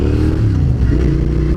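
A Suzuki SV V-twin motorcycle engine pulls hard under acceleration, a loud close throaty drone with a rising pitch, heard alone without talk.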